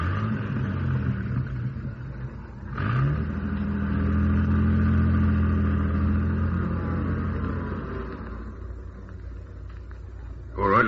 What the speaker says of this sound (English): Now drive this jalopy across the road.